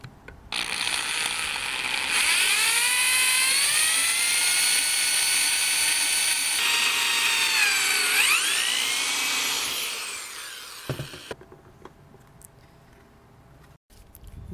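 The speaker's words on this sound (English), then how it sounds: "I can drill a hole through both of them." A power drill whirs steadily for about ten seconds, its pitch sagging as it bites into a metal bracket, then stops, leaving a few faint clicks.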